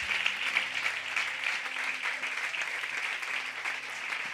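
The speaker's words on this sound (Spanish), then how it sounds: "dale un aplauso a este Cristo" A church congregation breaks into loud, dense applause for Christ during a sermon, continuous rapid clapping filling the room, with faint low sustained tones underneath.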